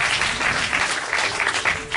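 Loud, continuous applause from a congregation at a church sermon, dense clapping sustained throughout with no talk over it.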